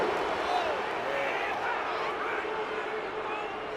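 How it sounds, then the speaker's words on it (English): A stadium crowd at an NFL game between the Bears and Lions reacts to a personal foul penalty call with a steady, loud, dense roar of many voices that holds throughout. "this crowd does not like that call"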